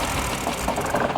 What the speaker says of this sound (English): The car cut off out of nowhere.